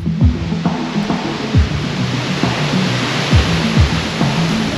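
Rushing water at the Kringler waterfalls, a loud, steady broadband roar that never lets up, with repeated low thumps breaking through it every half second or so.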